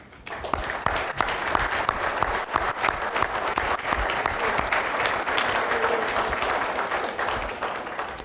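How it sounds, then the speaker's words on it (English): At an athlete of the year awards show, standing nominees clap for their families and supporters, a full, sustained round of applause filling the hall at an even level. "Will our nominees please stand and clap for your support system who is here tonight?"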